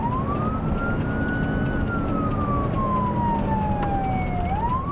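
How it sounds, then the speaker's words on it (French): A fire engine siren wails as it passes on a road, its pitch sweeping up then slowly falling as it goes by, heard over a constant loud rumble of road and engine noise from a moving vehicle. "On croise nos amis les pompiers qui vont peut-être sur le lieu de l'accident."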